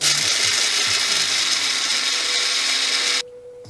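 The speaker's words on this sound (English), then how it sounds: "Now we want a fine grind for espresso." A coffee grinder grinds beans finely for espresso with a loud, continuous high whir for about three seconds, then cuts off abruptly, leaving a faint hum.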